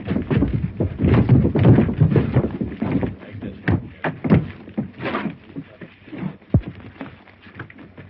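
Horses clop and shuffle nearby on a Western trail in a 1931 film, irregular hoof thuds and scuffs bunched loudly at first, then thinning to scattered steps.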